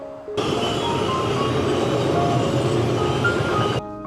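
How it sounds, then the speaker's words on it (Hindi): A steady, loud rumble of a passing local train in Germany, rolling continuously for a few seconds before cutting off. "ये एक लोकल ट्रेन है"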